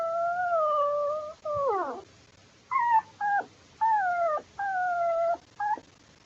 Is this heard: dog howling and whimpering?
yes